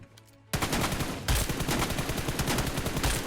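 Rapid automatic gunfire erupts in the mobile shooter BGMI after a brief quiet moment, a dense, loud burst of shots that keeps going to the end with no speech.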